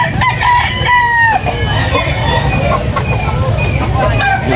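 A Kelso gamecock at a rooster market in Carbon, Cebu, crows in several rising, ringing calls close by, over a busy crowd with people talking and traffic murmuring behind.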